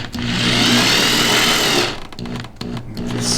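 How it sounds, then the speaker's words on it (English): A power driver whirs loudly and steadily for almost two seconds as it runs a screw back into a composite rock protection panel on a C8 Corvette, then gives a few short bursts and clicks. "now we just got to put the screw back in"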